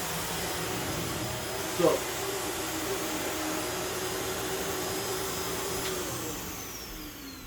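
A Shark Navigator Lift-Away Pro upright vacuum cleaner runs with a steady whining drone and a faint high tone, fairly close. A brief clunk comes near the start, and a voice speaks a word over the motor.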